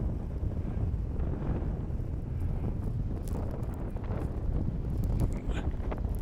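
Strong wind buffets the microphone during a paragliding flight over the coast at Saint-Pabu, a loud, steady roar with gusty rumbling and no speech.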